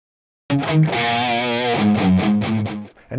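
Heavily distorted electric guitar riff on Jackson guitars, a 2019 Jackson KV and a 2007 Jackson RR, in a cranked metal-style tone: loud palm-muted chugs and sustained chords after a short silence, ending in a brief stop.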